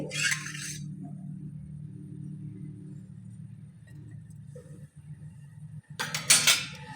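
A pot set down on a gas stove and oil poured in while making roasted poha chivda: a low steady burner rumble runs throughout, with metallic clinks and a scrape at the start and a louder clatter near the end.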